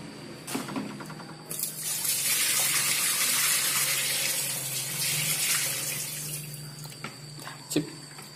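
Tap water gushes steadily into the tub of a Sharp ES-F950P GY washing machine during a manual wash, a loud continuous stream opening and fading with a few knocks at the start and end.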